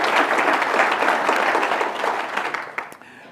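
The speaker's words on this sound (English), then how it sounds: "So give them a round of applause." Audience applause fills a State of the City address in Moreno Valley: dense, steady clapping from a large crowd that holds for about three seconds, then thins and fades into a few scattered claps.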